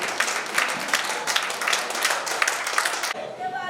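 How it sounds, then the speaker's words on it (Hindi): Audience at a poetry gathering of visually impaired poets breaks into steady, dense applause that holds for about three seconds, then cuts off abruptly into a brief quieter tail. "भरपूर तालियों के साथ स्वागत कीजिए कवि मनोज वाजपेयी जी।"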